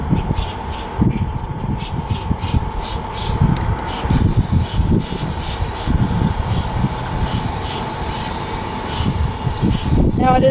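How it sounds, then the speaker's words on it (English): Aerosol spray paint hissing onto the back of a glass pane outdoors on a windy day, starting in short bursts and then settling into a long continuous hiss. "spray paint the back surface of the glass with the spray paint"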